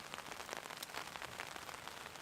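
Steady rain patters densely on a taut tarp shelter at a woodland camp, a soft continuous crackle with scattered sharper drops.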